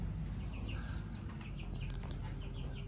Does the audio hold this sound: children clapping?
no